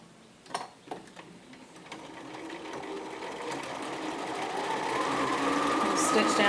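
A sewing machine stitches around the pocket edge of a bomber jacket, starting with a few taps and then building into a steady, fast, close whirring run while someone talks.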